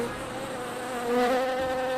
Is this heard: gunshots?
no